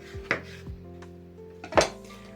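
Knife slicing sausage into strips on a board in a home kitchen, a few sharp separate cuts and knocks with quiet gaps between, close and fairly soft.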